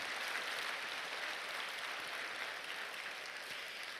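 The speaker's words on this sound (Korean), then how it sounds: "우리 한번 박수로 하나님께 영광 올리겠습니다." A congregation applauds at a Korean church prayer meeting, a steady, even wash of clapping that stays at a moderate level throughout with no voices standing out.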